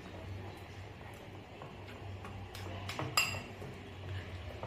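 Banana flower paste being stirred with raw mustard oil in a bowl, giving light, irregular clinks and scrapes of a utensil against the dish, close and fairly quiet over a low steady hum.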